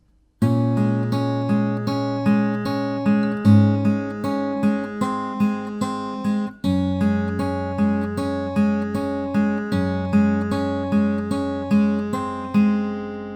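Fingerpicked acoustic guitar plays a steady, rolling arpeggio pattern through changing chords, each note ringing into the next, clear and close with no voices, the pre-chorus of a song.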